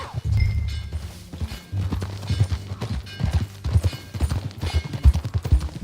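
In the video game Red Dead Redemption 2, steady clip-clop of horse hooves at a trotting pace, close and fairly loud, with a low rumble of movement beneath the rhythmic beats.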